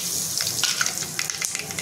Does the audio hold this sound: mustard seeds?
yes